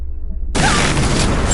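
A sudden, loud explosion effect from the Jackbox Party Pack 6 dice game: silence, then an abrupt blast that holds as a broad roar to the end.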